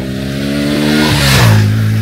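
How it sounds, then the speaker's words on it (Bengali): A motorbike passes on a road through green countryside, its engine note rising and then falling in pitch as it approaches close and loud and moves on, with no talk over it. "এখানে অবশ্যই বাইকের দৌরাত্ম্য বা দাপট আছে"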